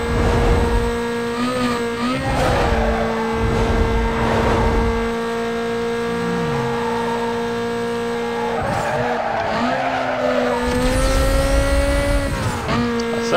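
Race car in Need for Speed: Most Wanted accelerating hard, the engine tone rising and falling through gear changes, with tire squeals and skids through the corners.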